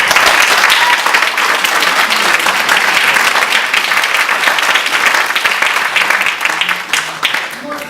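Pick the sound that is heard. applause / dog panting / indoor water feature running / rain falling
applause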